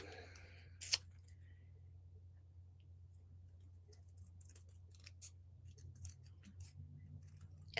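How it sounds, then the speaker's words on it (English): Scissors cutting out a paper piece for a handmade card, giving a sharp snip near the start followed by faint, scattered small snips and paper handling in a quiet room. "So let me finish cutting this out here."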